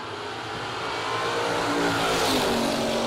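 A 1969 Chevelle drag car at the starting line of a drag strip, its engine running and revving up with a rising roar over about three seconds, heard from a moderate distance without speech.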